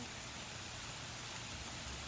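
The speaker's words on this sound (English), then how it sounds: "And I'm sure you can hear the rain." Steady rain falling outdoors, a dense, even hiss of drops that holds constant for a couple of seconds with no voices over it.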